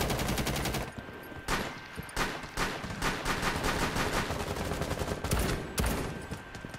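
Rapid gunfire in the first-person shooter Rainbow Six Siege, with dense automatic bursts and single sharp shots cracking almost continuously, loud and close, with a couple of heavier reports near the end.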